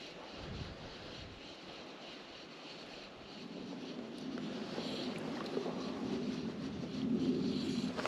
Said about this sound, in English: The wind's changed, it's coming back off my back again.